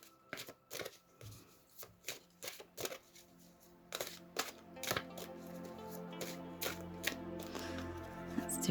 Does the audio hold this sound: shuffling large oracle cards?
yes